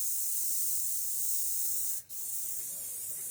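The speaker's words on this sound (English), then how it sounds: "Keep that airbrush moving." Airbrush spraying oil paint, a steady close hiss that runs continuously with a brief dip near the middle as the trigger eases off and back on.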